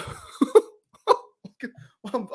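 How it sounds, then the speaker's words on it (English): A man's burps break up his speech on a stream, a few short guttural bursts mixed in with talking, close and fairly loud. "I'm just burping"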